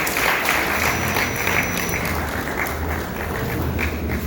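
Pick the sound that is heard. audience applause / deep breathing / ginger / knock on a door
audience applause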